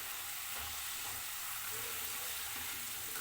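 Potatoes for honey chilli potato frying in oil, a steady dense sizzle close by with faint stirring underneath.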